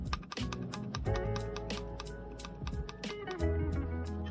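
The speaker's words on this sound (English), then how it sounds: "I did find this keyboard that's made by M5 Stack. It's really clicky, it's very tactile." Rapid, crisp clicks from a tactile M5 Stack pocket keyboard being typed on close up, an irregular run of sharp keystrokes over a steady low background hum.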